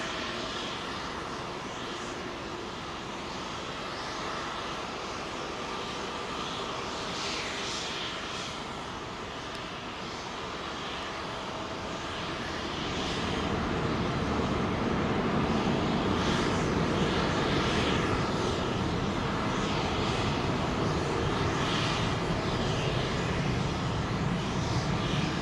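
An airliner departing London Heathrow on runway 27L, bound for JFK, gives a steady distant engine rumble that swells midway into a louder, sustained roar as it accelerates down the runway.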